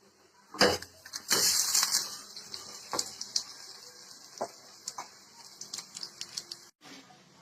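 Rice and lentil adai batter sizzling on a hot pan, with a bright crackling hiss swelling early and then settling into scattered pops and soft clicks, heard close with no talk.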